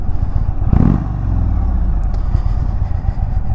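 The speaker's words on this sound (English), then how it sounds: "the exhaust note on these bikes is just amazing compared to the smaller counterparts with the same engine" A 2023 Indian touring motorcycle engine rumbles low and steady nearby, with a brief louder clattering burst early on before it settles into a constant throaty exhaust drone.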